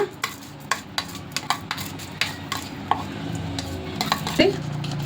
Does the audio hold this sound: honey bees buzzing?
no